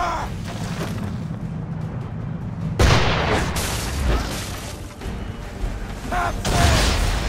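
Ship cannons fire in an Assassin's Creed III naval battle, with deep booms and blasts over creaking timbers and clattering mechanisms, while voices shout orders throughout.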